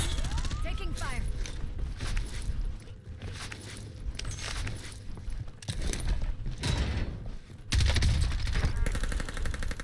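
Gunfire in the shooter game Warzone crackles in bursts amid mechanical clatter and game effects, continuing through the clip at moderate loudness with a louder stretch near the end.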